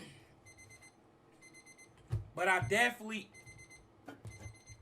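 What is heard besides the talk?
alarm beeping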